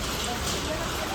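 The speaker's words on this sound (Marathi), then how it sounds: "हे बघा हे बर्फाचे तुकडे पडतात इकडे." Hailstones pelt a metal sheet roof during a heavy storm on the Kolhapur highway, producing a dense, steady rattling patter that fills the whole moment at close range.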